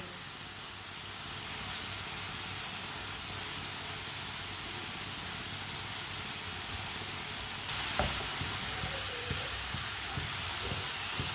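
A potato mixture sizzles steadily while being stirred and cooked in a pan for a winter potato recipe, a continuous frying hiss with soft scraping and a few sharper clicks of the spoon near the end.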